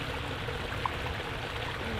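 A long residential backyard waterfall in Illinois, framed by hosta plants, flows steadily with a continuous broadband rush of falling water, close and even throughout with no voices.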